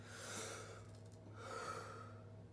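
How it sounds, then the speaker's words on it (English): Deep, slow breaths from a morning breathing exercise, one long inhale and then another, faint and close with a soft airy hiss and low background hum. "in the mornings, I would do deep breathing, and I still do it"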